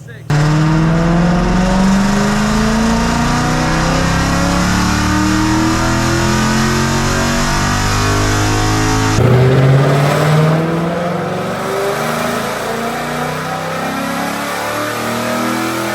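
A 2024 Ford Mustang GT V8 on a dyno roars loud and close, rising steadily in pitch through the gears in one long pull, drops sharply near the end, then climbs again briefly before settling into a sustained high drone.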